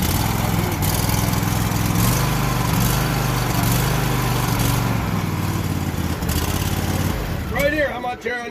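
A Toro lawn mower engine runs steadily and loud at an outdoor auction, its drone continuing under an auctioneer's rapid calling, then faltering and dropping away near the end.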